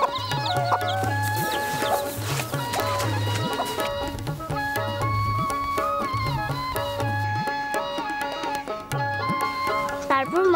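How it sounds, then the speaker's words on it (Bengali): Chickens clucking in a busy cartoon-style scene with music, the fowl calls recurring in short bursts throughout under a dense, steady backing of tones. "মুরগির কাকাক ডাক আমার ভালো লাগে।"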